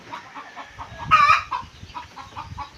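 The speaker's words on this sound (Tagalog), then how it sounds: "mga manok ay nag-iingay at nangitlog po" Chickens cluck in a busy farmyard chorus, with a louder squawk rising briefly in the middle over steady low barnyard noise.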